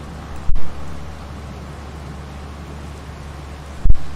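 Steady rain falls in Farming Simulator 22, a soft continuous hiss with low rumble underneath, broken by two brief dull thumps, one near the start and one near the end.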